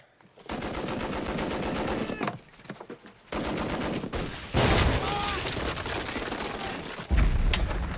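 Dense bursts of rifle and machine-gun fire with booming impacts, loud and near, in rapid fusillades broken by short pauses, as heard in a wartime battle scene.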